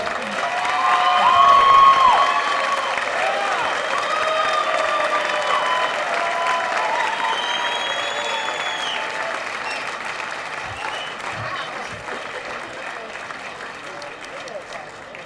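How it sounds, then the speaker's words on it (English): Sustained applause and some cheering from a large crowd at a Denver comedy club after a stand-up set, loudest near the start and slowly tapering off, with a voice faintly over it. "One more round of applause for Taryn Schroeder."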